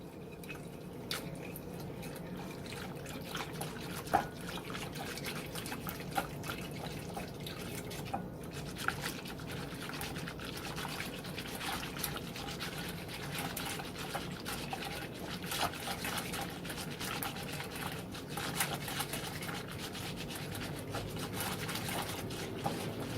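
Lemon jello is stirred in a bowl until dissolved, making soft, continuous swishing and faint light taps of the spoon, quiet and close.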